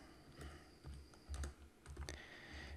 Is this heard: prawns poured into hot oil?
no